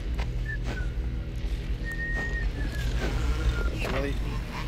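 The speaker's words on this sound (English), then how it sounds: "Who's whistling?" Whistling in the video game BioShock, a few thin melodic notes drifting over a low ambient hum, faint and in the background.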